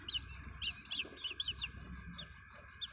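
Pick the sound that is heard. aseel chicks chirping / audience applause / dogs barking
aseel chicks chirping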